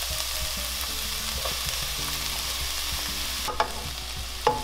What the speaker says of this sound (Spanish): lo dejamos un minutito a que se fría un poquito todos los ingredientes que acabamos de poner